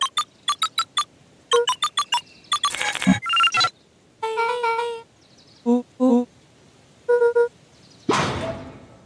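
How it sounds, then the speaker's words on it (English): Letters are entered on a keypad in the video game Beacon Pines: a string of short electronic beeps and tonal chirps, some rapid and some spaced out, ending in a rising whoosh. "Luka cracked his knuckles and entered the letters into the keypad."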